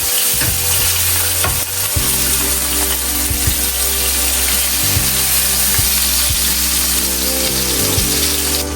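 Salmon frying loudly in a pot, a dense, constant sizzle with faint clinks and scraping mixed in, close and unbroken throughout.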